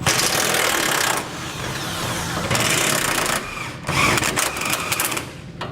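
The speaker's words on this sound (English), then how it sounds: "I'm going to take a 21mm socket and we'll pull the bolts out" A 21mm socket driving bolts out of the frame of a 2018 Chevrolet Silverado pickup truck during a trailer hitch install, a loud rapid buzzing rattle in several close bursts with short pauses between them.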